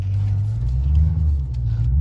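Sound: Dodge 392 Scat Pack engine doing a burnout

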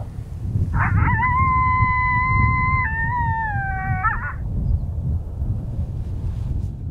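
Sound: coyote howl call and coyotes responding

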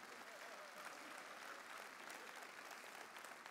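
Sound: audience applause

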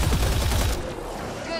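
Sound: gunfire in video game Mass Effect Andromeda

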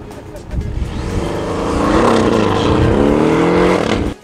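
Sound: Porsche sports car driving at speed

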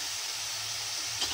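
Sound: ground spices frying in hot oil with cumin

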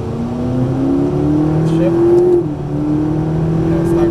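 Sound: exotic sports car accelerating on a racetrack

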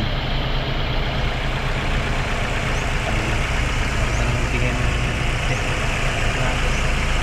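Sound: Ford Escape 2.3 engine running at idle

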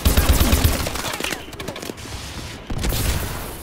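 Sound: Ohm gun firing in Call of Duty: Advanced Warfare video game

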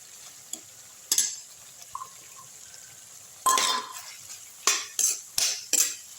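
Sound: sautéing Indian gooseberries in oil for pickle

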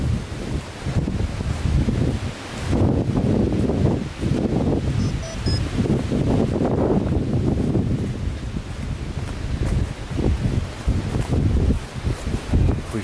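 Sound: strong wind blowing

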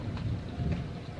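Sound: rain and thunderstorm during monsoon

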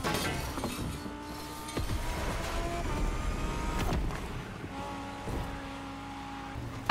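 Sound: race cars in The Crew Motorfest video game race

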